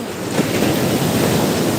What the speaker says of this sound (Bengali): এই যে সমুদ্রের গর্জন শোনা যায়